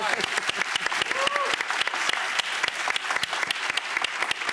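Applause from an audience at a televised talk show, with many distinct, crisp claps forming a lively, uneven patter close by, plus a brief voice in the background.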